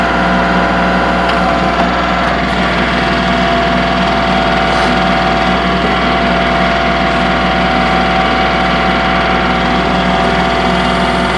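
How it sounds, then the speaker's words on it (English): A 2023 Kubota L3902 HST tractor with a BH77 backhoe attachment idles loudly and steadily close up while the outriggers are lowered, a constant droning engine hum with faint hydraulic whine and no speech. "We're going to release our boom off. Put both our outriggers down."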